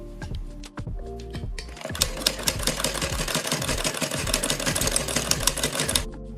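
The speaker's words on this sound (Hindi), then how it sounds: "अब हम इस डोरी की दूसरी साइड सिलाई लगाएंगे" A sewing machine stitches a cord onto fabric for a neck design, starting with a few slow stitches and then running in a fast, steady mechanical rattle, close and loud.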